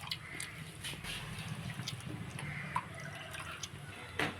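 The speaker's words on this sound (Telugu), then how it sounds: "ఇలా వాటర్ పోసి బాగా ఇలా కలిపి" Water is poured over thinly sliced boiled bamboo shoots and stirred by hand while washing them, giving faint, close splashing and dripping with small irregular sloshes at a low level.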